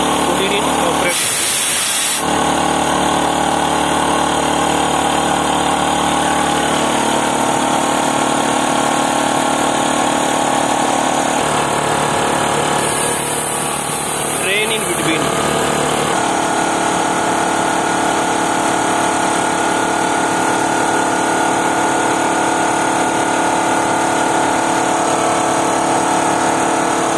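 A breathing air compressor runs aboard a ship while recharging SCBA bottles, a loud steady mechanical drone with hissing bursts of air near the start and midway, filling the space without pause.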